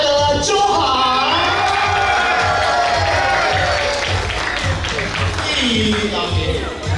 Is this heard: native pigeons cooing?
no